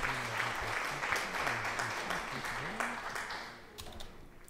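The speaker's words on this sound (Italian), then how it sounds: "facciamo anche un grande applauso a Monsieur Lazapastorto" Audience applause in an Italian game stream: a steady, fairly faint wash of clapping that thins toward the end, with a voice talking underneath.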